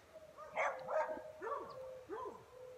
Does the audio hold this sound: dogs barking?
yes